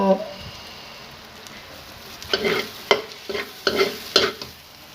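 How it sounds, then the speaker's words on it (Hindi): Cow brain masala fries in a pan over lowered heat while being stirred, with scattered scraping strokes and bursts of sizzle over a soft frying hiss. "अभी इसे थोड़ी सी बनाई का टाइम है और थोड़ा सा और भून लें"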